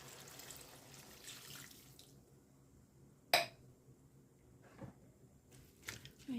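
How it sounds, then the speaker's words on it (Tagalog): Tap water runs into a pot of sautéed cabbage with ground meat, a soft steady stream that stops, followed by a few faint kitchen clinks. "Lagyan kong tubig."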